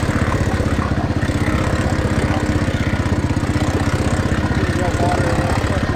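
A cheap quad ATV engine with a slipping clutch belt drones steadily and loudly close by, its rapid pulsing throb holding even throughout on sand dunes, with people talking over it.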